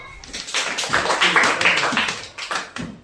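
A classroom of young students in a remedial maths lesson claps together for a classmate's correct answer, a brisk, uneven patter of many hands that carries steadily for a few seconds.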